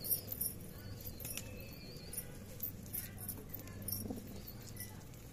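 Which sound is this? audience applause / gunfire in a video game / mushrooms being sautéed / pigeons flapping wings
pigeons flapping wings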